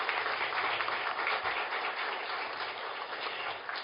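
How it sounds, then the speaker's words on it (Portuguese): Continuous applause fills a hall during an academic induction ceremony honouring late writers, a dense even wash of clapping throughout with no voices standing out. "Eu peço um aplauso a Laís Corrêa de Araújo e Afonso Ávila"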